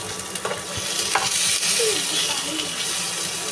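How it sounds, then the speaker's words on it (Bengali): Pieces of chicken frying in hot oil give a continuous close sizzle and spatter, with a few sharper pops and faint kitchen clatter throughout. "কথা বলতে বলতে আমার মুরগিটা তো ভাজা হয়ে গেল"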